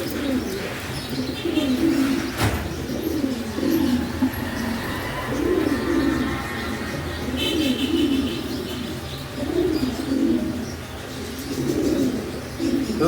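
A pair of blue bar Mondain pigeons coo in repeated low rolling phrases at a steady rhythm, close and clear, with faint chirps of other birds in the background.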